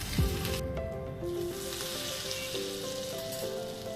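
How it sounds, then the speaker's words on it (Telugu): A ghee and chili tadka poured into palak paneer curry bursts into a loud sizzle that settles into a steady crackle over light background music. "ఇప్పుడు ఈ తడక మనం కర్రీలో వేసుకుందాం"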